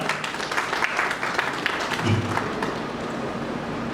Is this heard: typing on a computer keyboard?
no